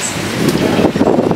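Wind blustering outdoors in a hillside village in Busan, a loud rushing roar pressing on the microphone with uneven gusts throughout.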